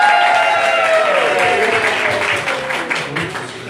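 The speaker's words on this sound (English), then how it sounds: "Let's give her a big round of applause." An audience at a birthday party magic show applauds loudly and steadily, the clapping fading slightly toward the end while a voice carries over it.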